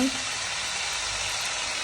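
Leafy greens hiss and sizzle steadily in a hot pan after cumin seeds are tempered in oil, with no chilli added; a continuous close frying sound with no talk.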